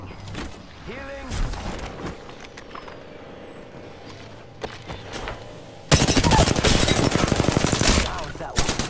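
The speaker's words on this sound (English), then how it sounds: "I'm taking shots" Apex Legends gunfire: bursts of automatic weapon fire with a sustained, loud rapid volley in the second half, dense and close, mixed with game effects and faint background chatter.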